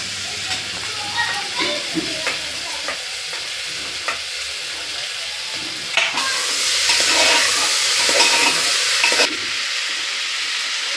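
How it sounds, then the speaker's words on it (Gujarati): Steady sizzling of spices frying in hot oil, with scraping stirs and clinks, growing louder midway, broadband hiss throughout. "બધા મસાલા નાખી દીધા વઘાર મારી દીધો"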